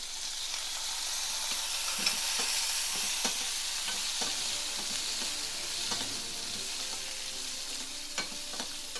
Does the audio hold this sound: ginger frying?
yes